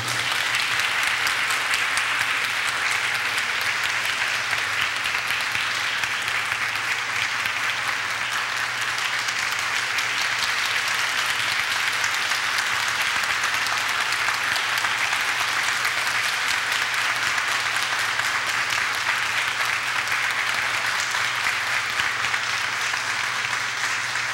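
A church congregation at a service gives steady, sustained applause of thanks, a dense even wash of many clapping hands from start to finish.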